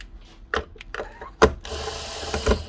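Screws being removed from the back of a Makita DMR102 job-site radio with a ratcheting driver, a few separate clicking, grinding bursts and knocks at close range, then a rough sustained scraping.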